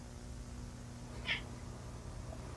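A single short meow from a pet cat rises once near the middle, faint and somewhat distant, over a low steady indoor hum.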